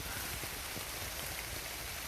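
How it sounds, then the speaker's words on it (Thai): Steady rain falling on surfaces near a house, a dense even hiss of drops throughout with no talking. "โอ้ฝนตกซะด้วยครับ"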